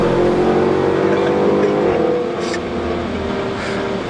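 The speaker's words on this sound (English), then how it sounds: "today I'm going to be test driving the very latest Porsche Panamera" A new Porsche Panamera accelerates on a test drive, its engine droning loud and steady from inside the cabin, then easing slightly in the second half.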